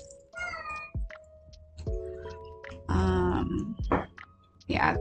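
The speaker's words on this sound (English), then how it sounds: "He just kind of like meows randomly for no reason." A pet cat meows several times, drawn-out, whiny calls with pauses between them, close by and fairly loud in a quiet indoor room.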